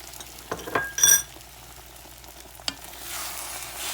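Two eggs poured over potatoes frying in oil in a hot skillet: a steady sizzle with a few clinks and stirring scrapes, then the frying noise swells louder near the end.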